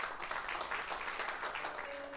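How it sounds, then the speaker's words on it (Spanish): A church congregation applauds steadily for about two seconds, a dense, continuous patter of many hands at moderate volume with no speech over it. "Démosle un aplauso al Señor"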